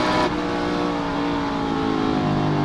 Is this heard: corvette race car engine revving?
yes